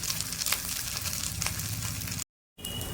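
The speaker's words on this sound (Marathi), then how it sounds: "आपण आता बाकीचे पण टाकलेले आहे, ते पण असे गोल्डन फ्राय करून घ्यायचे" Potato kofta frying to golden in hot oil in a kadhai, a steady dense sizzle and crackle with a brief total silence near the end before the frying resumes.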